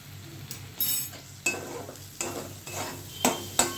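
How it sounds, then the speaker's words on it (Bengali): Spice paste for soyabean curry frying in a pan, a soft steady sizzle broken by repeated scraping stirs of a spoon against the pan, several distinct strokes at close range. "এইভাবে আমি মশলাটাকে ভালো করে কষিয়ে নেবো"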